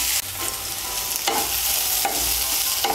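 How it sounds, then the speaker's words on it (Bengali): Soybean chunks frying in oil with turmeric and salt give a loud, steady, close sizzle, broken by a few short scraping strokes as the pieces are stirred. "দিয়ে সয়াবিনটাকে আমি ভালো করে ভেজে নেব"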